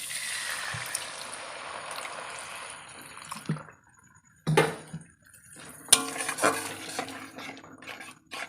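Water is poured into a pan of cooking onions for a Bengali egg curry, with a hissing sizzle at first, then a few sharp pan and utensil clanks and splashes, close and fairly loud, with no talk.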